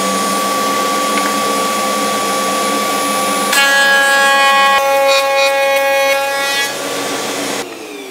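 A router fitted with a Trend half-inch cutter whines loudly and steadily while cutting a rebate in wood guided along a router table fence, its pitch shifting as the cut bites, then easing off at the end.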